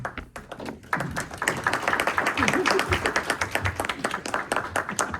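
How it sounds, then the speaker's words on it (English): An audience at a township board meeting gives a round of applause, with scattered close claps building into a steady, fairly loud patter of many hands that keeps going. "a round of applause"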